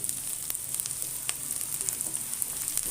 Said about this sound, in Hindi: फ्राई करूंगी जब तक लहसुन में से खुशबू ना आए।